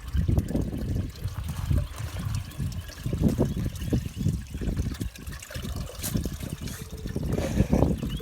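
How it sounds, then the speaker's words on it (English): Irrigation water trickles and splashes steadily in a garden, a continuous liquid babble with occasional louder gurgles, heard close with no talking. "Irrigation is going, and there's just a few spots that don't have water."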